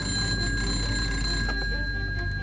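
An alarm bell rings continuously for an emergency takeoff at a wartime jet fighter airfield, giving off a steady high metallic tone over a low rumbling background.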